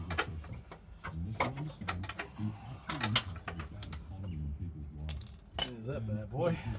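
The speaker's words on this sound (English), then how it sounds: "So I'm going to get this bolt out, control arm." Mechanical clicking and ratcheting as a hand tool works a front control arm bolt loose on a Ford Falcon AU XR8, a series of quick sharp metallic clicks in uneven bursts at close range.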